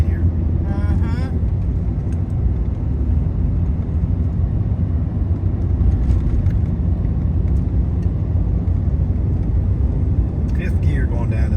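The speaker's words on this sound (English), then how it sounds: "Fifth gear going down this long hill." A car coasts down a long hill in fifth gear, its low engine and road rumble droning steadily and close up while people talk over it.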